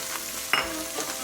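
Ground pork sizzling as it is sauteed with golden-browned garlic for pancit palabok, a steady close frying hiss with one brief sharper clatter partway through, no talking.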